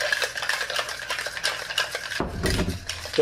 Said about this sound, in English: And we are going to stir this.